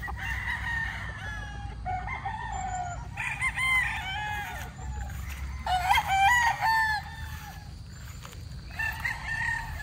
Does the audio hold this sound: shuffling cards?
no